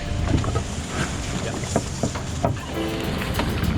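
A boat loaded with fishing tackle motors across open water, a steady low engine rumble with wind buffeting and splashes of water against the hull.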